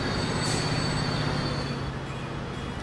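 A video game train in Transport Fever rumbles along steadily with high metallic wheel squeal ringing over a constant low drone, no voices.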